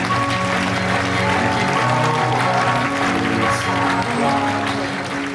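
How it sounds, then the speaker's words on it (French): A zoo crowd at an outdoor sea lion show claps for the trainer, sustained broadband applause under a droning, tonal background of music or amplified sound, with no pause. "Je pense qu'on peut encore applaudir bien fort notre belle Amy."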